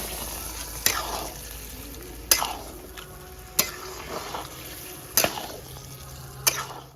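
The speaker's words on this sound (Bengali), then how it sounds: "এবার মটনটা ঢেলে দেবো ম্যারিনেশন করা ভালো করে" Marinated mutton frying in a pan for a mutton, potato and papaya curry, giving a steady close sizzle broken by a few sharp clinks and scrapes of stirring, with no talking.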